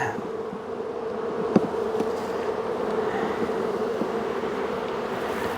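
Honey bees in an open hive give off a constant, close buzzing hum, steady and dense, with a faint tap or two at one point.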